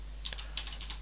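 Quick keystrokes on a computer keyboard while writing code, a short burst of about six sharp clicks in just over a second, close and crisp over a low steady hum.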